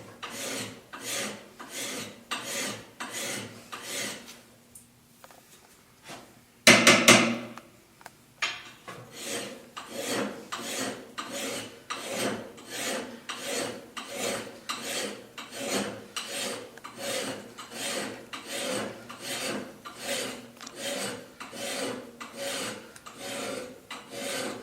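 A hand file rasps steadily along an axe edge being sharpened, with regular back-and-forth strokes close up, broken by a brief louder scrape partway through.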